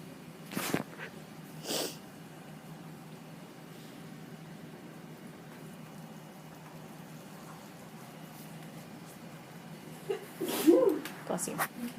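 A single soft sneeze near the end of a quiet stretch, with a couple of faint breathy sounds earlier.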